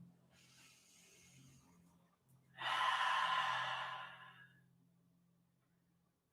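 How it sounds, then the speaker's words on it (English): A slow, deep breath drawn and let out during a guided relaxation exercise, loud and close for about two seconds, with soft low hum and quiet breathing before and after. "Really deep breaths now"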